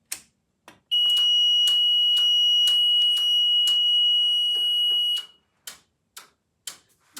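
Brand-new GE fire alarm panel under test: a loud continuous high-pitched alarm tone lasting about four seconds, preceded and followed by sharp clicks and ticks from the panel.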